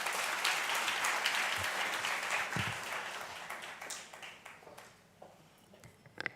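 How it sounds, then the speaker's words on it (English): An audience at the Equity Leaders Program Airlift 2018 event applauds an executive director taking the stage, a loud, dense wave of clapping that slowly thins and fades to scattered claps at the end. "Please applaud Ruben."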